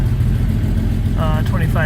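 A 1960 Jaguar car idles with a steady, deep, even rumble that runs the whole time, close and loud, with someone talking over it toward the end.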